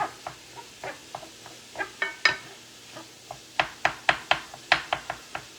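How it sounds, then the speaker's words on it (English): Crumbled tofu mixed with salt in a pan or bowl: a close series of sharp utensil taps and scrapes at an irregular, brisk rhythm, growing busier toward the end, with no voices. "I'm just going to mix that through"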